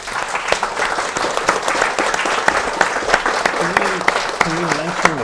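At a talk event, an audience gives a round of applause: close, continuous clapping with sharp individual claps standing out, and a voice speaking over it toward the end.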